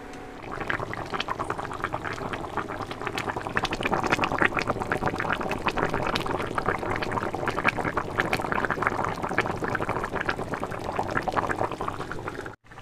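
A pot of jackfruit curry with mutton fat bubbling on a high gas flame, a continuous close wet bubbling and gurgling at steady loudness that stops abruptly at the end, with no talking.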